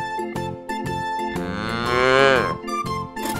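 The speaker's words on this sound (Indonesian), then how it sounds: "Wah, ternyata ini indukan sapi" A mother cow moos loudly in a toy truck play setting: one long, drawn-out bellow rising and falling in pitch, surrounded by short knocks and bumps of handled toys.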